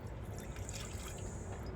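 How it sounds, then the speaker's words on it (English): Water pours steadily into a bowl, a continuous soft splashing and trickling close by with no talking. "And we're going to pour this into the bowl"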